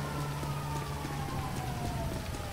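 Rain falls in the video game GTA Online as a steady, even hiss, with faint wavering siren-like tones drifting underneath and no voices.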